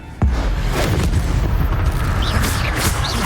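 A loud, sudden fiery blast from the Incendio fire spell in Hogwarts Legacy, then a sustained roaring rumble with whooshing effects layered over it.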